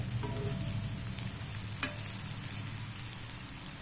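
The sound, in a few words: frying thin brinjal slices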